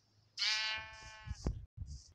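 A sheep in the Minecraft video game lets out a single wavering bleat, clear and close, followed by a few soft thumps and game sounds.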